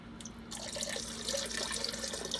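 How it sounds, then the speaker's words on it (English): Homemade apple pie moonshine is poured into a container in a continuous splashing liquid stream, close and fairly loud, with no talk. "Here we go with the pour."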